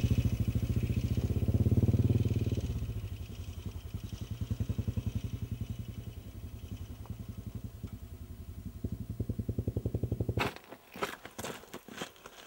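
Motorcycle engine chugging steadily on a rough, changing road, a loud close idle-like throb with rattling and clatter throughout, then a few sharp bangs near the end.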